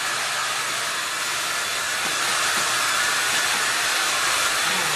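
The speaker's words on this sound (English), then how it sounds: "Blow dry that canvas." Loud, steady hair dryer blowing hot air onto a painted canvas, a constant close-up whooshing hiss with a low motor hum, no other sounds.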